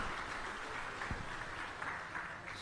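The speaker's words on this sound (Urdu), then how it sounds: "آپ حضرات زوردار تالیوں سے ان کا استقبال کریں." Audience applause at a Republic Day mushaira poetry recital in Delhi, a soft, steady patter of clapping held at an even level throughout.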